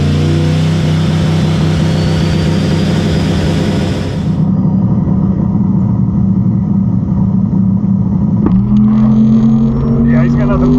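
A Tesla Plaid pulls away in a drag race at a dragstrip. The loud, sustained electric drive whine runs the whole time and shifts in pitch partway through.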